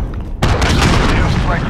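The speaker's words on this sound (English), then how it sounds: "Allied cruise missile away" Cruise missile strike in Call of Duty: Modern Warfare multiplayer: a sudden loud blast hits after a brief quieter moment and rolls on as a heavy, sustained roar.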